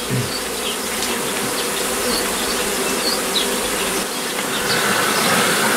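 A dense, steady buzz of many bees during a cutout of a bee colony from a possum box fills the air, continuous and fairly loud with faint higher whines of individual insects passing close.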